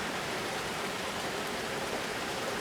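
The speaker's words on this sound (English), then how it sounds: "I think it's calmed down a little bit to at least sort of normal rain." Steady, moderate rain falls after a heavy downpour near Cheonjeyeon Waterfalls on Jeju, Korea, giving an even, unbroken hiss close by with no voices.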